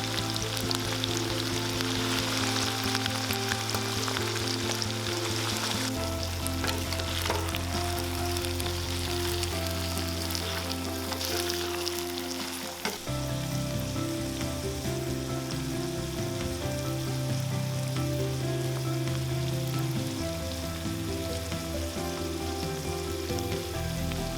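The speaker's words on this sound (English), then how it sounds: "Heat some mustard oil in a pan, drop in the bamboo shoot and fry it for a while." Bamboo shoot fries in hot mustard oil in a pan, giving a constant crackling sizzle under steady background music throughout.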